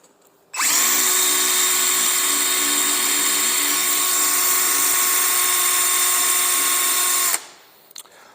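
A power drill whines at a steady high pitch for about seven seconds, drilling bolt holes for rear sponsons on a Superjet watercraft, close and loud, then stops abruptly.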